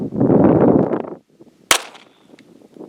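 A Kel-Tec PMR-30 pistol chambered in .22 Magnum fires a single sharp, loud shot from close range, preceded by a rumbling burst of noise and followed by faint handling sounds.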